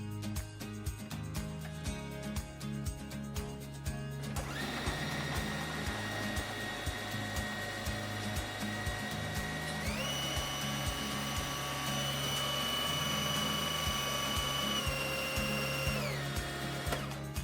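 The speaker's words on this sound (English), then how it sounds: "Place them in a blender and blend until pureed." A blender purees strawberries for homemade jam, running as a steady loud whir that rises in pitch partway through as the blades spin freely, with continuous motor drone and no talking.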